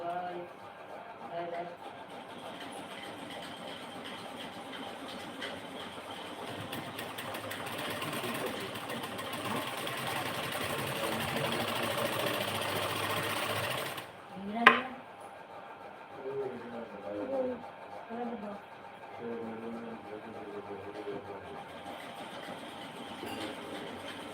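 A sewing machine stitches lace along a sleeve edge, running steadily at moderate volume for about fourteen seconds before stopping, with a sharp clunk and then quieter handling noises.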